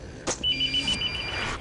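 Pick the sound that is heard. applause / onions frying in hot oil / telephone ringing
telephone ringing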